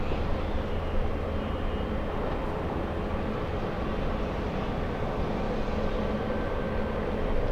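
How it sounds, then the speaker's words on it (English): A fully loaded China Eastern Boeing 777 bound for Shanghai roars down LAX runway 24 left at full takeoff throttle, a steady, loud, broad jet rumble that holds constant throughout with no talk. "China Eastern 586 to Shanghai, big one, fully loaded, at full throttle, on a 24 left"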